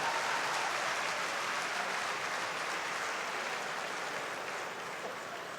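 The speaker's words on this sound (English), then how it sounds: "Please, can we clap him and give him another applause?" An audience at an engineering forum claps, a dense and steady round of applause that tapers slightly toward the end.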